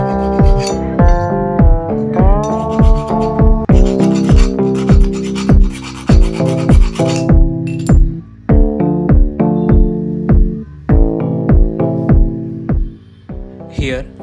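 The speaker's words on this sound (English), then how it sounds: "Once the drilling process is completed, use a file to smoothen it down to make it flat and even." A hand file rasping across a drilled steel motorcycle brake pedal on a Pulsar NS200, loud and close in repeated back-and-forth strokes, each one scraping with a ringing metallic tone.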